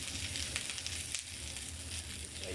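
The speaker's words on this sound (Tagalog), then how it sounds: "Tapos ibisa ko na yung bawang." Garlic sizzles in a hot pan, a dense, continuous crackle close by with a brief dip partway through, and no talking.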